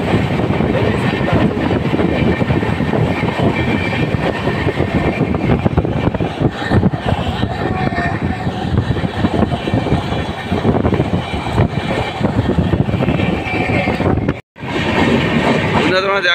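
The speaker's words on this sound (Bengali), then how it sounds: "খুবই অপূর্ব দৃশ্য, ওই দূরে পাহাড়ের পাশ দিয়ে আমাদের ট্রেন যাচ্ছে" The Kamrup Express races along at speed past distant hills, a dense, loud roar of wheels and carriage rumble that runs unbroken apart from a brief dip near the end.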